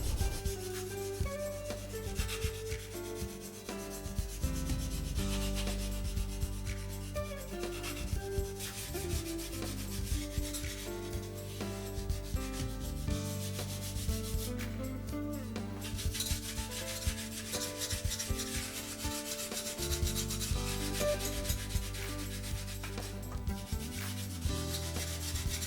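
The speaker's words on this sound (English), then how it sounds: "detail sand any high spots until there are no bumps or imperfections" Sandpaper rubs steadily over the surface of a model stunt plane, detail-sanding down high spots and bumps in long, continuous strokes, close and fairly quiet under a constant background.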